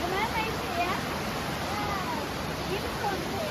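Glenariff Forest waterfall pouring into a small pool below, a steady broadband rush of falling water, continuous and fairly close, with faint voices in the background.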